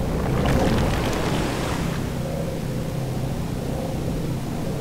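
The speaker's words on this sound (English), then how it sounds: "the Alliance's camp disappeared under waves of water with a very satisfactory gurgling sound." A burst dam floods an enemy camp in the Dungeons 2 video game, a loud rushing surge of water and surf-like noise that swells in the first two seconds, then settles into a steady churning wash.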